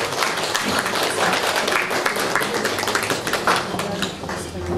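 An audience at an Easter gathering of a senior university group in Kałuszyn claps in dense, steady applause for the full stretch, close and loud, with possible voices mixed in.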